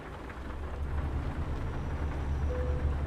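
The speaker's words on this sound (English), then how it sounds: "Oh, nice little thunder effect there." Thunder and rain effects in the Euro Truck Simulator game: a steady broadband wash of rain with a deep low rumble rolling underneath, continuous and fairly loud throughout.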